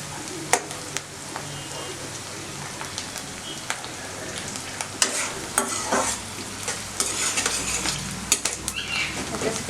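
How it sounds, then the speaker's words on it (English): Chopped curry leaves frying in a pan with a close, continuous crackling sizzle, crisp pops scattered throughout and a few louder spits, with stirring that grows busier toward the end. "Let them fry them well. Until they turn soft"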